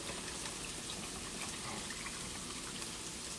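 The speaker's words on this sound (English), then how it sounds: "now let's add in our rajma along with all that water." Water and cooked kidney beans pouring into a pot of curry sauce, a steady broadband gush of liquid lasting throughout at moderate level.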